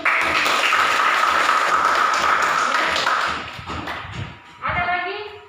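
Students in a classroom applaud, a dense clatter of clapping that holds steady, then thins and fades into scattered taps and a few voices at the end.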